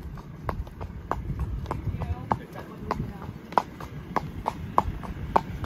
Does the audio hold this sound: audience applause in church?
no